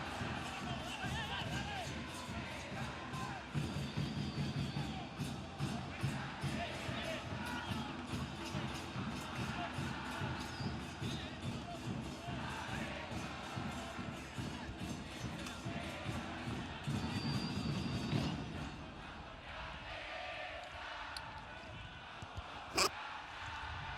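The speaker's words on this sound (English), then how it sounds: "Crowd continues to provide a scintillating atmosphere here in San Pedro Sula." Football stadium crowd in San Pedro Sula at a Real España versus Tauro match, a broad, steady roar of chanting and rhythmic clapping under a commentator's voice, dropping off abruptly near the end.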